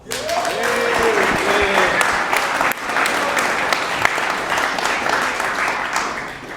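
An audience at a live debate on plastic-to-fuel in Chicago bursts into sustained, loud applause that fills the clip. A voice is briefly audible near the start.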